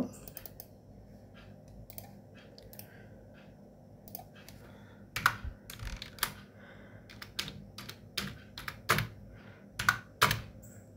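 Typing on a computer keyboard: quiet, irregular bursts of key clicks, sparse at first and then busier, with a few sharper taps close by.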